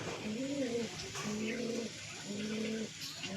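A pair of pigeons coo softly nearby, giving several low, rounded coos in a loose, repeating rhythm with short gaps between them, against quiet outdoor background noise.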